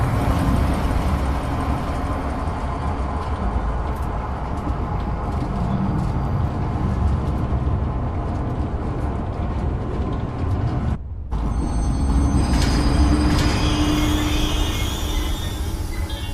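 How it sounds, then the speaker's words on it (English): Train in the video game Zoochosis starting up and running between zoo enclosures, a steady loud rumbling ride with mechanical rattle, briefly cutting out near the middle before carrying on with a faint whine. "select the giraffe enclosure on the control panel and start the train"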